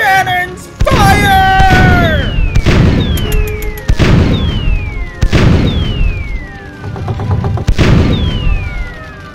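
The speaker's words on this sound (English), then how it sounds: "All cannons fire!" Repeated loud booming blasts of cannon fire from a Paper Mario video game, several shots at irregular intervals, each followed by whistling descending tones and crashing impacts, with a voice briefly heard.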